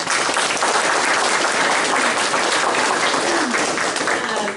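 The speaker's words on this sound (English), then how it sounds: "Let's give them a round of applause." Sustained applause for fifth grade science teachers at a school district gathering, a dense steady wash of many hands clapping at full volume throughout.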